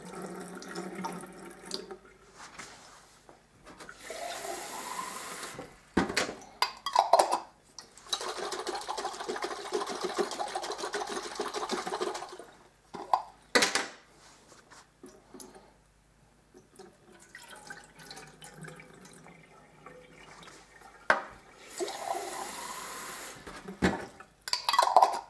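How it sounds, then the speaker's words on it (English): Tomato seeds are rinsed under a running tap, with water gushing into a container in long spells, then poured off and splashing, with short pauses between rinses. "Clean them with some running water here. The seeds will sink to the bottom, so I can pour the water off like this."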